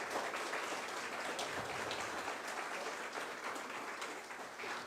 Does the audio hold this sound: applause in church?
yes